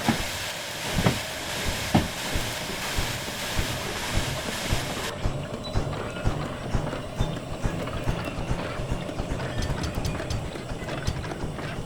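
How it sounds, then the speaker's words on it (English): Steady, loud hiss of steam venting from the opened cylinder cocks of an S060 locomotive in the Derail Valley railway game, continuous and broadband with rhythmic chuffing pulses underneath throughout. "Pull the daggum cylinder cock."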